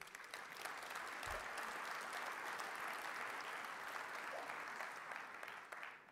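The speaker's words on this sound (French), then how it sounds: "que je vous demande d'applaudir" Steady applause from a political party congress audience fills the whole stretch, even and sustained, with a faint low thump near the start.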